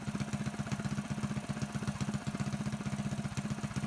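A Predator 224 mini bike engine fitted with a Mikuni VM22 clone carburetor idles steadily, its fast, even low-pitched firing pulses running throughout with no talking.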